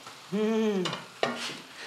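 Butter sizzles and crackles in a hot pan as a roux is started, with a stirring scrape and short bursts of frying noise at close range.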